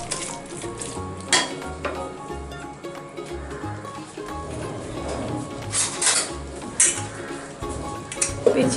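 Chicken tipped into biryani masala in a pot sizzles and fries, with scraping stirs and clinks from a spoon against the metal. Close and busy, with no talking.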